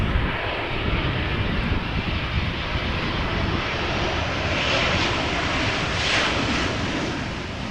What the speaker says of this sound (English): This is another KLM Boeing 737 tippy-toeing